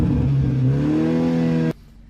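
A BMW 430i cabriolet engine revs at a standstill, a loud, close, steady drone whose pitch climbs slowly and then cuts off abruptly, leaving quiet.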